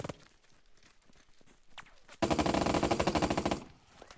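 Vehicle machine-gun fire in the WWII tactics game Burden of Command bursts in as a loud rapid rattling volley lasting about a second and a half, after quiet scattered clicks and thuds.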